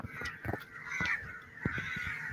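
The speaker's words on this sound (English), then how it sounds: "How all of a sudden these birds, you just hear all of these crows" Several crows caw in a scattered series of harsh calls, some nearer and louder, others overlapping farther off, over a steady background hiss outdoors in Tanzania.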